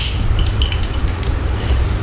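Water pours steadily into a glass while a glucose drink is being mixed at home, making a close, continuous splashing rush with a few light clinks. No one speaks.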